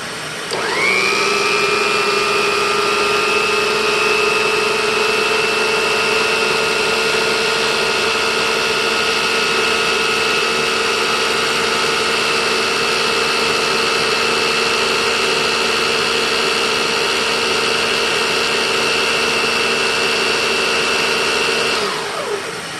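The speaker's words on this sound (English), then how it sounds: "Now let's turn on the motor." An Electrolux PN4 power nozzle motor spins up and runs after refurbishment, a steady loud whine with a sustained high tone over a vacuum roar, holding evenly for about twenty seconds before winding down.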